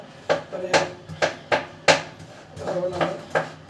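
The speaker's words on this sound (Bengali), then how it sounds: "এই যে কুচি কুচি করে কাটতেছি সালাদটা" A knife chops salad finely on a cutting board, giving about eight sharp, fairly loud thuds in an uneven rhythm, close by, with a faint voice under it.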